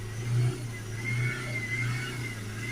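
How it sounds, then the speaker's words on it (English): A Honda Civic 2.2 diesel engine idles with a steady hum and is revved in a few brief swells, rising and falling up close. "We're just going to give the car a few revs."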